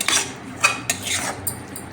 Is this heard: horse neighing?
no